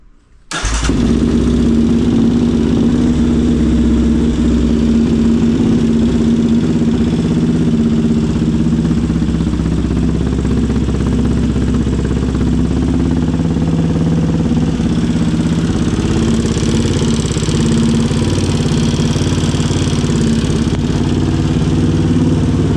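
A Yamaha Raptor 700 ATV fitted with fuel injection and stage three upgrades starts abruptly and then settles into a loud, steady, throbbing idle that runs continuously close by, with the pitch rising slightly near the end.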